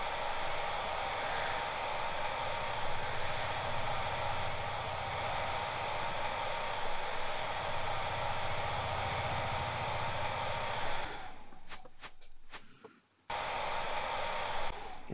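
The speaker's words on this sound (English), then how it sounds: "So we want to get the blow dryer." A blow dryer runs steadily in the Barbershop Simulator VR game, a loud continuous whirring hiss that holds for about eleven seconds, drops out briefly with a couple of clicks, then resumes.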